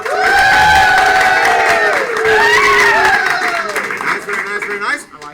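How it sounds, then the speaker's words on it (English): A live studio audience at a comedy game show cheers, whoops and applauds loudly and at close range, and the noise starts to fade after about five seconds. "applaud now!"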